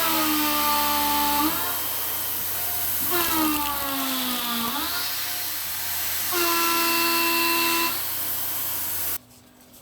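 Tormach milling machine running a face mill at a 4-thousandths depth of cut, its tonal whine sweeping and sagging in pitch as the spindle starts to bog down, loud and steady with no talking.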